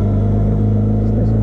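A loaded Benelli TRK 502 X adventure motorcycle with a 15-tooth front sprocket, its engine running in first gear on a steep road climb, producing a steady, close, loud low drone throughout.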